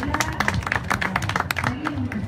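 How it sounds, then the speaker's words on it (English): Audience at an English language club meeting clapping for a speaker, a brief round of loose, uneven claps at close range with voices murmuring underneath. "Give him a clap,"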